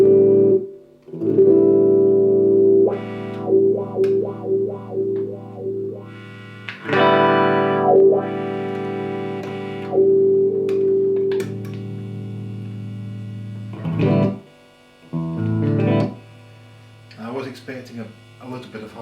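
An electric guitar plays through a pedalboard with tuner, wah, gain stages, splitter, chorus, flanger and vibrato, giving sustained effected notes and short riffs with pauses, close and fairly loud.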